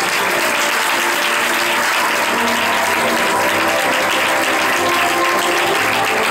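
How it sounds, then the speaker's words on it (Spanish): A church congregation at an evangelical service bursts into loud, sustained applause, a dense and steady wash of clapping that runs throughout without a break. "Le damos un aplauso al Señor"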